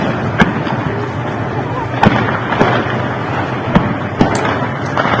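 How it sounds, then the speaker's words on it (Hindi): Heavy gunfire in Syria rings out as several sharp, far-off bursts and cracks at irregular intervals over a rough, noisy background. "एक और वीडियो देखिए, कितनी ताबड़तोड़ फायरिंग"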